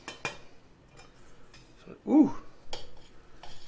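Rice being stirred in a pot, with a few sharp spoon clinks against metal and a soft scraping swirl, close and fairly quiet, with a brief voiced exclamation in the middle.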